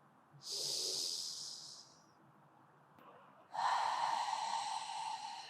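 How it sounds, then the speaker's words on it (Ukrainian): Slow, deep exhales during a yoga stretching session, two long breathy hisses through the nose or mouth, close and alone. "Розслабте живіт. Повільний видих."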